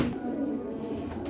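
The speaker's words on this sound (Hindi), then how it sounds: "ये टैडी और फिरोजपुरी क्रॉस कबूतर है भैया," Soft, low cooing from a Teddy and Ferozpuri cross pigeon runs steadily through the short clip, a close murmuring drone with no talking over it.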